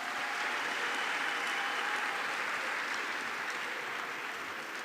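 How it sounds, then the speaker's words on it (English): A large crowd at a youth summit's grand closing ceremony gives a sustained round of applause for the Prime Minister of Rwanda, a thick, uniform roar of clapping that holds steady the whole time. "A big round of applause to the Right Honorable Prime Minister of the Republic of Rwanda."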